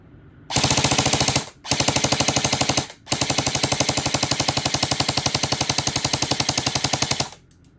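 An EMG MPX airsoft gun fires on full auto in three rapid, evenly clattering bursts, close and loud, with brief pauses between them and no talking.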